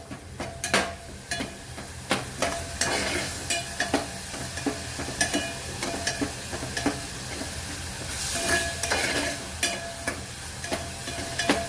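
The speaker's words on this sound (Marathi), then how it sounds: "आले लसणाचा उग्रवाद जाईपर्यंत परतून घ्यायचं" Ginger, garlic and chilli paste frying in a pan, a steady close sizzle broken by repeated scraping stirs and spatula knocks against the pan, with a louder hissing surge partway through.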